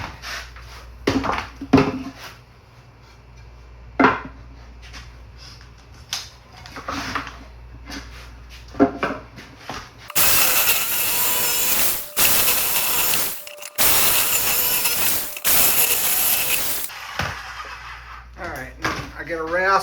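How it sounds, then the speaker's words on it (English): A jigsaw cuts out a traced piece for a DIY chicken feeder in several loud, harsh bursts over about seven seconds, following scattered clicks and handling sounds, with people talking. "get your jigsaw and cut it out."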